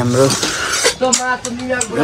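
A metal plate and cutlery clinking and clattering during a home meal of rice and meat in a Nepali village, close and fairly loud in quick irregular knocks, with faint voice-like tones between.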